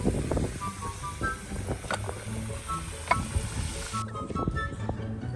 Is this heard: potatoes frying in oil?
yes